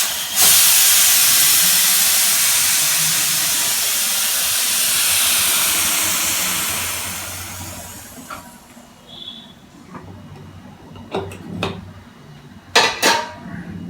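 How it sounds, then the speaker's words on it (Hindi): A pressure cooker cooking Sindhi-style rajma releases a loud, sustained whistle and hiss of steam that gradually fades, followed by a few scattered metallic clinks and knocks of pots. "अब हम कुकर का ढक्कन लगा देंगे 4 सीटी आने तक।"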